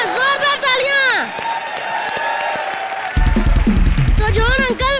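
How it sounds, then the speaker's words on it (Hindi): Loud studio audience applause and cheering on a live comedy TV show set, swelling into a dense burst near the end, with a host's excited voice talking over it at the start and close. "यहाँ जोरदार तालियां।"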